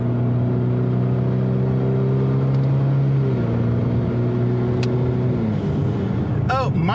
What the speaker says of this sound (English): I can't get into it, but I can let the RPMs go up